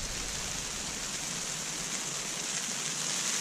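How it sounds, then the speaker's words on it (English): Steady hiss of winter rain pattering on a camping tent, a close, even wash of sound with no voices. "Hear it raining out."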